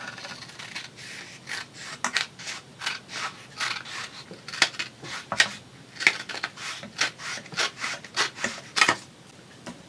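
Scissors trimming the corners of a handmade book cover, a quick series of crisp snipping and rubbing strokes, close and fairly loud, coming in irregular bursts.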